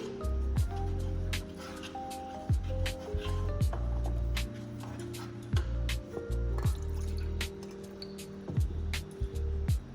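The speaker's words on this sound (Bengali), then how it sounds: "জাস্ট একটু মিশিয়ে নিচ্ছি।" Yogurt gravy being stirred in a pan over low heat for a potol cashew-poppy seed curry, wet repeated dripping and sloshing squelches in an irregular rhythm, close and fairly loud.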